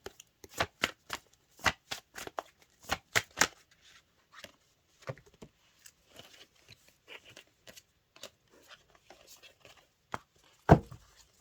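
Tarot and oracle cards shuffled by hand, a run of sharp riffling slaps at first, then lighter scattered card taps and one last loud snap, close up with no talk.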